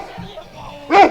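A dog gives a short yelp or bark close by, with faint sounds and a voice just before it.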